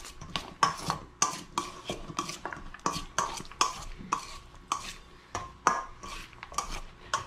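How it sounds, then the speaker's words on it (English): Ingredients mixed in a bowl with red peppers, giving a steady run of sharp, rhythmic clinks and scrapes of a utensil against the bowl, close and clear with no talk. "we're gonna go ahead and give this a mix"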